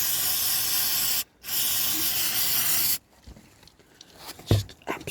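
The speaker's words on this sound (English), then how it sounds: "Look at that air compressor." An air compressor in a car workshop, during a Rover 45 engine service, gives a loud continuous hiss that briefly cuts out. It then stops, leaving quieter knocks and handling noise.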